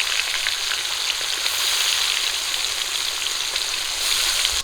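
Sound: fish belly pieces frying in hot oil

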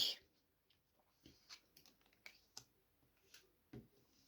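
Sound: tarot cards being drawn and handled

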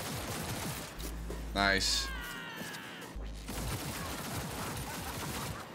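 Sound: gunfire in video game Cyberpunk 2077

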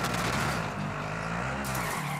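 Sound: car skidding in video game Warzone

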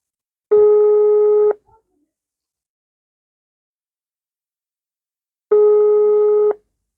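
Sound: telephone ringback tone on speakerphone

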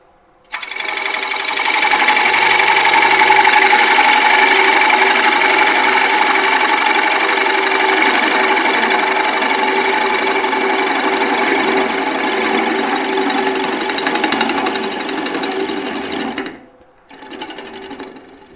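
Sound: bowl gouge cutting wood blank on a woodturning lathe

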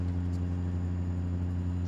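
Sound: Caterpillar C15 truck engine in American Truck Simulator video game

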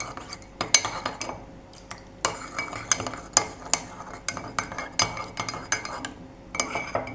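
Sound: stirring custard powder mixture to remove lumps

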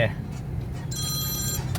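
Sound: telephone ringing

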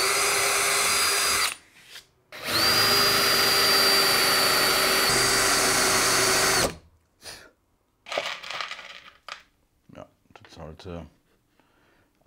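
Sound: drilling through with a small drill bit

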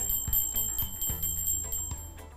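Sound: high-pitched bell rung beside a baby

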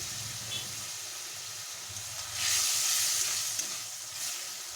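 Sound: spice masala frying and being stirred in a pan

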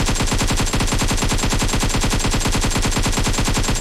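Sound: gunfire in the video game PUBG

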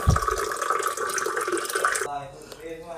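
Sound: water filling from a mini water filter purifier

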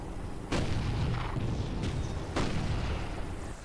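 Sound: shooting at mortars in Toy Soldiers video game

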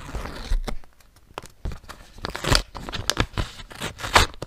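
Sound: paper surprise packet being torn open

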